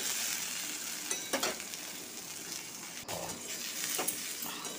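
Potato and ivy gourd pieces fry in hot oil in a pan, a continuous soft sizzle broken by a few sharp clicks of stirring, close and without talk.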